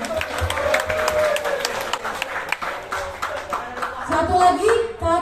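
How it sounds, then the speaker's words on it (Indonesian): Applause and clapping from a crowd at an outdoor team-building event for Bukit Asam, honouring Pak Novan, steady and fairly close throughout, with voices talking over it and a few louder cheers near the end. "Kasih aplaus dulu buat bapaknya"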